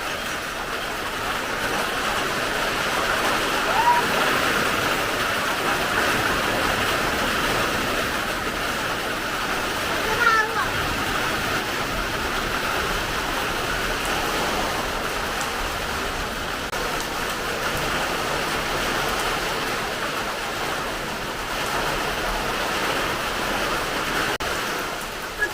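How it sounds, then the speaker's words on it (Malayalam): Strong wind ahead of heavy rain roars steadily and evenly for a long stretch, a dense outdoor rush with faint gusts and no voices. "മഴയുമായി വരുന്ന കാറ്റാണ്."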